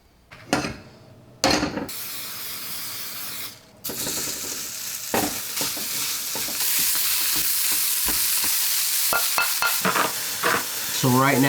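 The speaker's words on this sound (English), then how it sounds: "So right now I'm cooking up the ground turkey" Lean ground turkey, seasoned with salt and pepper, frying in a pan with a continuous sizzle that grows louder, punctuated by repeated scraping and knocking stirs of a utensil.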